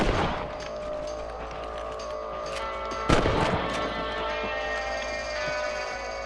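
Rifle shots fired at rabbits in Red Dead Redemption, with a few sharp cracks spaced apart over an outdoor ambience, one loud close shot standing out in the middle.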